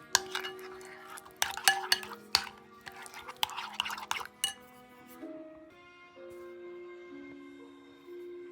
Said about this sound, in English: Once it's cooled, just throw in some vanilla. Mix it up pretty good.